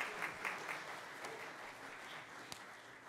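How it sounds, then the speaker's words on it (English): A church congregation applauding nativity play performers at a Christmas Eve service, a faint, steady patter of clapping from a modest crowd that carries on evenly for several seconds. "let's give them a big round of applause"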